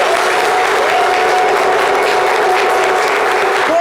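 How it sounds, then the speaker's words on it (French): A studio audience at a live French-language talk show applauds loudly and continuously, a dense wash of clapping from start to finish, with a faint steady tone underneath. "Merci de l'applaudir."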